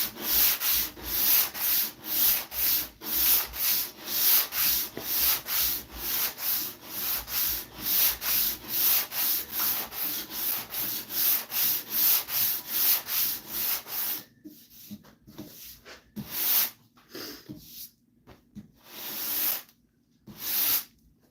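A low angle jack plane in need of sharpening shaves guitar wood in quick, regular rasping strokes, then slows to fewer, more widely spaced passes, close and clear with no talk.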